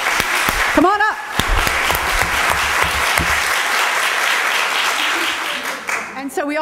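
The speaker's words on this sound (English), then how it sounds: "let's give her a round of applause for coming here and reporting today" An audience claps for a speaker at an HR metrics presentation, steady loud applause throughout with a whoop and a few cheers rising near the start and end.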